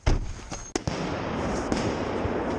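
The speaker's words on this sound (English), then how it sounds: "Wait for the bang. Grenade." A SWAT team's stun grenade goes off during a no-knock drug raid in Henry County, giving a loud, sharp blast followed by a couple of further cracks over loud, rumbling background noise.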